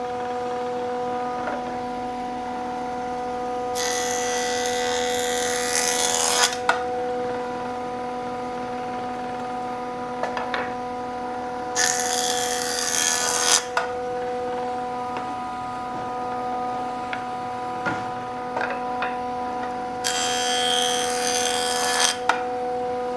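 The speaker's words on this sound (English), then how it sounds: "So what I'll do is run them over to the jointer to really flatten out that bottom piece" Boards are fed through a woodworking jointer to flatten their edges for a charcuterie board. A constant motor whine runs throughout, broken by three loud, harsh cutting bursts of a few seconds each as the wood passes the blades.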